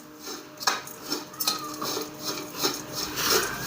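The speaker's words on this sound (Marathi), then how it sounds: "चांगलं असं मिक्स करून घ्यायचं खोबरं थोड्या वेळ परतून घ्यायचं" A spoon stirs grated coconut in ghee in a pan while making coconut laddoos, giving repeated close scraping and clinking strokes in an uneven rhythm, with no talking.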